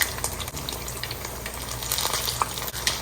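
Boneless tilapia deep-frying in oil over high heat gives a dense, continuous bubbling crackle with scattered pops, close and fairly loud.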